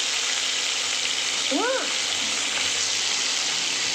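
Onions and curry leaves sauté in a pan with brinjal and potato, a loud continuous frying sizzle filling the clip with a brief faint tonal sound in the middle.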